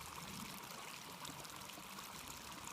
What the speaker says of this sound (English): look at the water coming down here